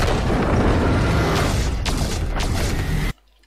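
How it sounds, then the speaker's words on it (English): A loud, continuous explosion from the Transformers: Age of Extinction movie trailer, with deep rumbling blast noise that fills the sound for about three seconds and then cuts abruptly to silence. "Classic Michael Bay explosions."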